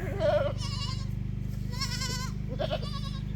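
Several goats bleat loudly in short wavering cries, one after another, over a steady low hum of background noise.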